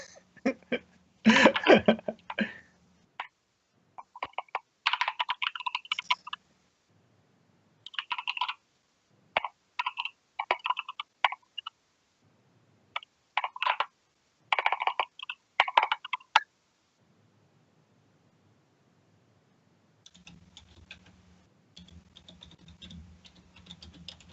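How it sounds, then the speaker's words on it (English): Bursts of rapid clicking from a computer keyboard, several separate typing runs with short pauses between them, fairly close, ending in a quieter low rumble. "I am typing while you are typing"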